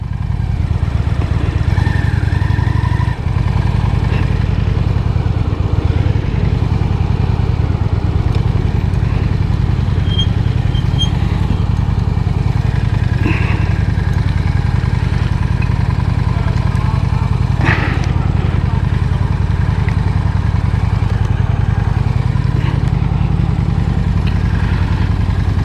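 Motorcycle engine idling and puttering at low speed while pulling in to park, a steady close low rumble with occasional clatter, and no talk over it.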